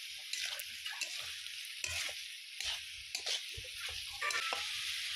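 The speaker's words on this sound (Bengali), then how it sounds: "তাই আমি জল দিয়ে এর মধ্যে নাড়িয়ে নিচ্ছি।" Coriander and cumin powder with a little water are stirred in a frying pan, making a close, steady sizzle and hiss broken by irregular scraping strokes of the spoon, with no talk.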